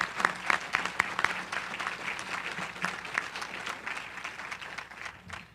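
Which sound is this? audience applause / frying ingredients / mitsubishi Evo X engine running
audience applause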